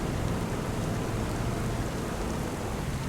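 Steady heavy rain hisses across the whole stretch in Farming Simulator 25, a dense, even downpour on the Moss Valley UK farm map with no gaps or voices.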